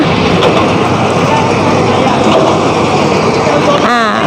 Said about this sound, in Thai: เราก็ได้ทำการสตาร์ทเครื่องยนต์แล้วนะคะ